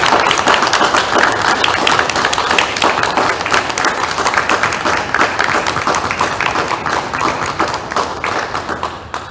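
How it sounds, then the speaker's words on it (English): A socially distanced audience at a 2021 school graduation ceremony claps in a sustained round of applause, crisp individual claps over a steady patter that thins slightly toward the end. "we want to celebrate you with a round of applause"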